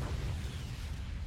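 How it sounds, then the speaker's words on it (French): A deep, rumbling anime explosion roars steadily and loudly throughout, heavy in the low end with a hissing wash above it. "Là, il y a l'explosion."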